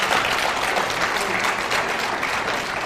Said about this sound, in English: Yes, you can clap for